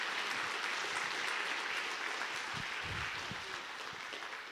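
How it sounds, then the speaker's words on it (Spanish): Church congregation applauds during a Spanish-language sermon, steady sustained clapping from a sizable crowd, fairly distant and even throughout, with no talking over it. "Yo creo que el Señor merece algo más grande de aplauso."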